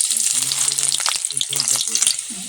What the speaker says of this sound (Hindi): तो अब हम फोरन को डाल देते हैं।